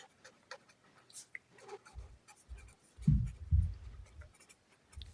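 Close pen strokes scratching on paper as math is written out, short rhythmic scrapes with a few louder, heavier strokes toward the end, with no other sounds around them.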